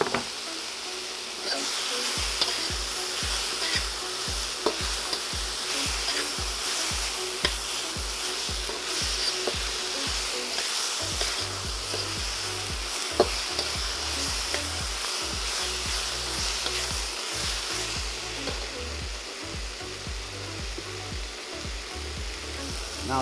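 Onion and mushroom sizzle and crackle in a pan as they soften, with the spatula stirring now and then. The frying hiss is steady and close throughout, over a constant low hum.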